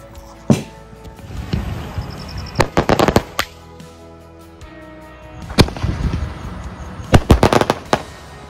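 A Liya Pyrotechnics 12-step skyshot fires outdoors. Loud, sharp launch thumps and crackling bursts come in several clusters, with pauses between volleys, and no voices are heard.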